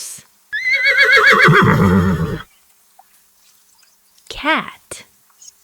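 Horse whinny with a loud, wavering rise-and-fall call lasting about two seconds, followed after a pause by a shorter, fainter snort-like neigh; heard alone among a sequence of farm animal sounds.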